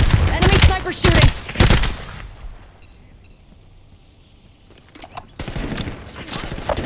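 Gunfire in the shooter game Black Ops 7 multiplayer comes as loud, rapid automatic bursts at the start, then a quieter lull, then more sustained firing toward the end.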